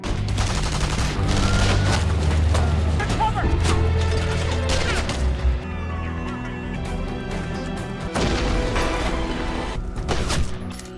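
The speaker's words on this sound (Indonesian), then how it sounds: "Sehingga aksi tembak-tembakan pun terjadi di sana." A shootout in an action film, with dense bursts of rapid gunfire and heavy booms from a car explosion, loud and layered under dramatic score and voices.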